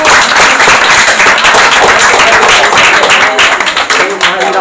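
Audience clapping at a prize giving for a coaching centre cricket match, loud and steady throughout, a dense wash of many hands with a voice faintly under it.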